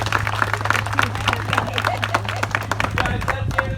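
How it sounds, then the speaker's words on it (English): Audience at an alligator feeding show on a South Florida alligator farm in the Everglades, clapping in a lively, uneven burst mixed with crowd chatter and cheering. "Big round of applause"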